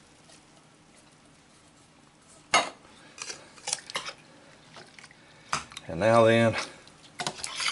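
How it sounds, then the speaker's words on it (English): Cut green beans and garbanzo beans tipped into a pot, with clattering metal spoon and pot knocks and a wet pouring slide, brief spoken words in between. "But I'm going to add some cut green beans. And some garbanzo beans."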